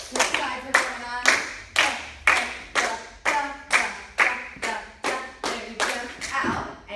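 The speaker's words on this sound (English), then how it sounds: "We stand up and we start clapping" Girls clap their hands in time during a dance routine, with about fourteen sharp, evenly spaced claps close by, each followed by a brief ringing decay.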